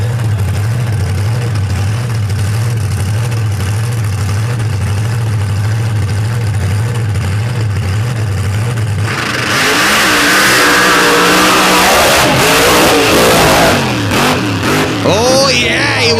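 Dodge drag racing truck with a 521 cubic inch Noonan Hemi, loping through a lumpy rhythmic idle before erupting into a loud, raw, sustained roar of revving and launch.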